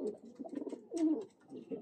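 Teddy pigeons coo in soft, close, repeated phrases, with a faint voice talking over them.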